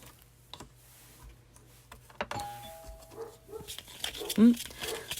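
A dog barks a few times in the background, mixed with a chime, tapping, and scattered household noises; someone talks nearby.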